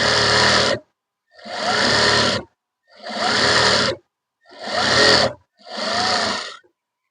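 Sewing machine stitching a frill onto a kurti sleeve, five loud whirring bursts of about a second each separated by short pauses, close and with no talking.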